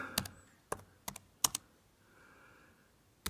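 Computer keyboard keys are tapped in short, irregular clusters with quiet pauses, a few crisp clicks followed by a lone final keystroke, close and clear in a quiet room.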